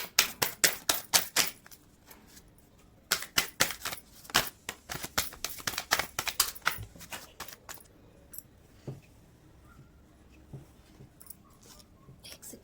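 Tarot cards being shuffled by hand: crisp, rapid clicking flutters in quick bursts, then a pause and another run, thinning out to sparse soft taps, with no speech.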